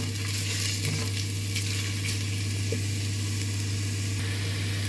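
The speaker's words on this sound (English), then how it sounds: "Continue stirring it like this." Onions frying in a pot give a continuous soft sizzle under a loud, steady low hum, with occasional faint stirring scrapes and no voices.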